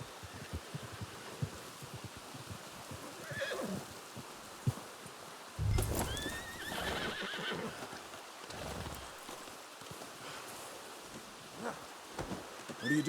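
A horse in Red Dead Redemption 2 snorts and whinnies close by, then clip-clops on the ground with scattered hoof steps amid faint rain and ambient noise.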